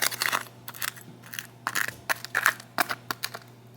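Crispy edges of smoked cheesy potatoes crunching in a rapid irregular series of close, sharp crackles, off the smoker, with no talking.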